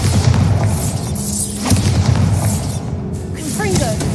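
Bombarda spell blasts in Hogwarts Legacy: loud booming explosions with crackling debris and rumbling bursts, up close and dense, with a few whooshing spell effects near the end.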